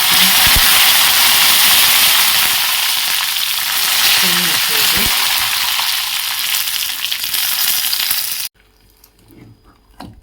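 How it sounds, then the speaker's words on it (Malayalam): Mustard seeds, dried chilies and curry leaves crackling in hot coconut oil in a wok: a loud, close, continuous sizzle with a few pops and clacks, cutting off abruptly near the end into near quiet. "ചീനച്ചട്ടിയിൽ രണ്ട് ടേബിൾ സ്പൂൺ വെളിച്ചെണ്ണ ഒഴിച്ച് അതിലേക്ക് കുറച്ച് കടുകും ഉണക്കമുളകും ചേർത്തിന് കുറച്ച് കറിവേപ്പില"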